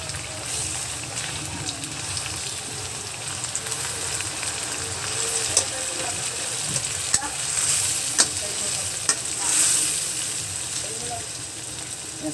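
Alamang, pure shrimp paste, sizzles and fries in a pan while being stirred, a continuous crackling hiss with occasional scraping clicks and brief louder spatters; a voice speaks faintly underneath.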